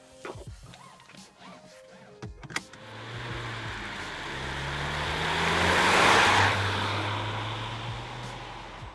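A SEAT Arona FR, the sporty trim of the compact crossover built on the Ibiza platform, pulls away and drives on, its engine and road rumble swelling steadily to a broad roar midway before easing slightly, with no talking.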